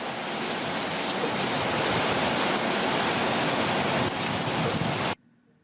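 Sudden summer rain falls steadily in a loud, dense wash of drops that holds for about five seconds, then cuts off abruptly to near silence.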